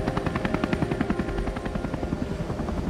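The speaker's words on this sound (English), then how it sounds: "rehearsing helicopter recovery from the water's surface" A helicopter hovers during an Apollo-era splashdown water recovery rehearsal, its rotor giving a steady, fast, loud chopping pulse throughout with a constant engine whine underneath.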